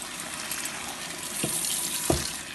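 Water from a tap runs steadily over moth beans in a colander, a continuous close splashing hiss with a couple of brief knocks near the end.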